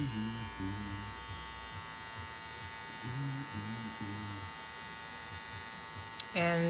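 A tattoo machine needle buzzes steadily while inking skin, a close electric hum that runs throughout, with people talking over it and a brief click near the end.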